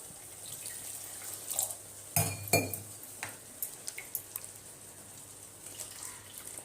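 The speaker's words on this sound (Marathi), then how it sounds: "थोडं आता पाणी टाकते त्याच्यामध्ये मी" Water is poured into a pan of cooking onion greens with a short splash, surrounded by faint clinks of utensils against cookware in a quiet kitchen.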